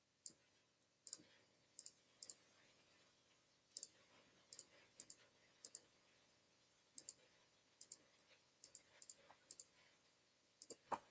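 Calculator buttons are pressed in a steady, irregular series of small, crisp clicks, some in quick pairs, as a trigonometry problem is entered. The clicks are quiet and close, with no talk over them.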